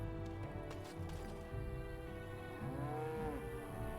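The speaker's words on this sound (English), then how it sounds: "Cow." Cow lowing in Dragon Age Origins, a low drawn-out moo with a wavering pitch that rises and bends, heard alone over quiet game ambience.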